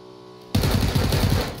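Gunfire in the PUBG video game: after a quiet moment, a loud, rapid automatic burst erupts up close and rattles on for about a second.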